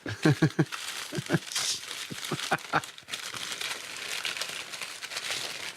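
Paper towel is unwrapped from around paper and tape, crinkling and tearing at close range in quick bursts, then a steadier softer rustling.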